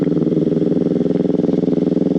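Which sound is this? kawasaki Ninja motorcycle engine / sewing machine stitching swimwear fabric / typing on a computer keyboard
kawasaki Ninja motorcycle engine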